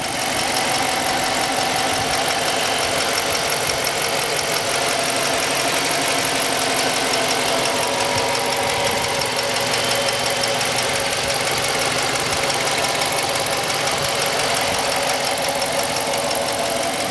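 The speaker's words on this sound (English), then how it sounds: "Let me be quiet so you can hear the engine." A 2016 Dodge Charger Police car with a 5.7 HEMI V8 sits idling in a steady, even rumble. A constant broadband hum carries through the whole stretch with no voices over it.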